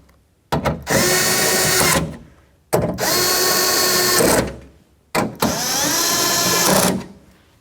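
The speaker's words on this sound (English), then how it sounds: "With a ratchet wrench, we're just going to snug these up" A ratchet wrench snugs window regulator bolts in a crisscross pattern on a 2006-12 Toyota Rav4, heard as three loud, close bursts of about one and a half seconds each, separated by short pauses.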